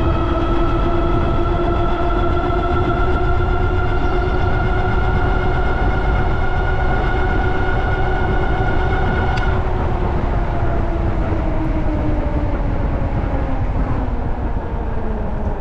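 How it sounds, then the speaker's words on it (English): An Ariel Rider Grizzly electric bike, version 3 with a changed controller, running on both motors, giving a loud steady motor whine with rising and falling tones, close and continuous throughout with no talking. "I'm gonna kick into both motors right now. Kind of loud."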